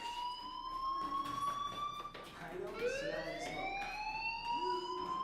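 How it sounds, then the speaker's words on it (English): A fire alarm wails in the video game Life is Strange, a loud rising and falling siren tone sweeping continuously and sounding close, with no talking over it. "do you hear that fire alarm?"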